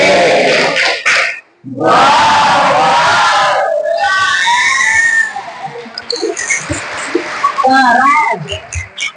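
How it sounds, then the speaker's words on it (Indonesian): Classroom of students performing a rhythmic clap chant followed by loud cheering, with children's voices shouting together, a brief drop-out, then sustained crowded yelling and scattered claps close by. "Siap-siap, 1, 2, 3, tepuk wow."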